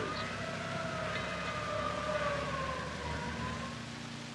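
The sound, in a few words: fire engine siren in 1950s classroom film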